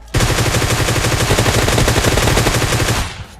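Loud, rapid automatic gunfire from a Groza rifle in PUBG rattles continuously for about three seconds, then cuts off abruptly.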